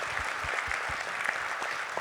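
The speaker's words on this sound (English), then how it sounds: "Give them a round of applause." An audience at a basketball team's town hall applauds in a steady, close wash of clapping that lasts the whole two seconds.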